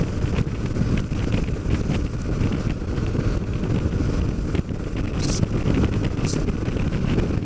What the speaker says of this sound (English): Beautiful day, a little windy